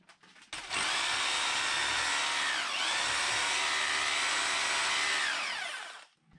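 A power drill with a long bit whirs loudly and continuously for about five seconds while drilling through a barn wall, its pitch dipping briefly under load before it winds down and stops.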